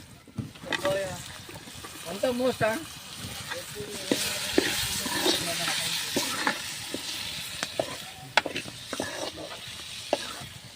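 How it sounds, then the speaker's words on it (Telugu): Tomatoes added to a frying pan of turmeric-spiced oil for a boiled-egg curry sizzle and crackle steadily, with intermittent stirring clicks and a voice talking in the first few seconds. "పసుపు ఉడికిపోయింది, టమాటా వేస్తున్నాను."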